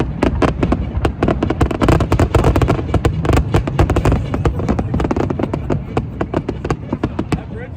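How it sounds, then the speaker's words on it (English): A rapid barrage of fireworks bursts at an outdoor celebration, dozens of sharp cracks and booms in quick irregular succession, loud and continuous, with crowd voices mixed in. "Fireworks!"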